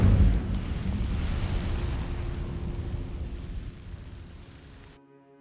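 An Incendio fire spell is cast in Hogwarts Legacy: a loud burst of roaring, crackling flame that starts strong and slowly fades over about five seconds before cutting off.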